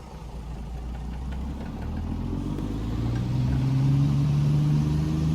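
A Mack R truck engine in American Truck Simulator pulls off in low gear, hauling cattle on a Nebraska farm route; a steady low drone builds gradually in loudness and pitch, with no one talking over it.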